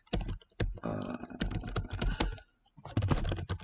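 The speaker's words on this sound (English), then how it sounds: "So now I'm going to type" Someone types on a computer keyboard while writing in MS Word: close, quick clattering keystrokes in uneven bursts, with a short pause before another flurry of keys.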